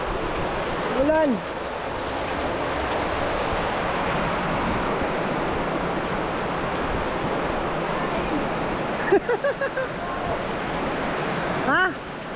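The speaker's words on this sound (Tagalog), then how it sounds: "Ah, ulan." Heavy rain falls steadily as a dense, constant broadband wash throughout, with a few brief voices speaking over it near the start and toward the end.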